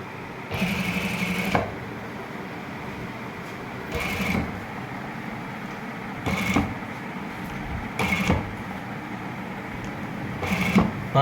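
A sewing machine runs in short bursts while stitching a neat boot-style seam over pressed lace, each whirring run lasting a second or so, with quiet pauses between and no talking.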